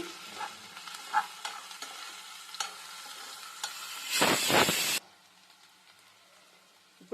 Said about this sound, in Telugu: ఇది పచ్చివాసన పోయేదాకా బాగా వేయించుకోవాలి